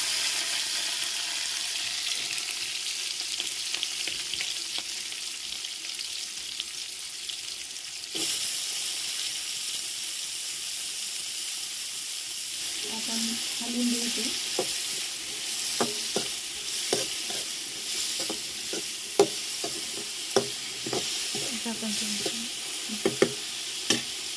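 Bitter gourd frying in hot oil sizzles steadily for a long stretch, with scattered sharp crackles and pops growing busier toward the end; no voices.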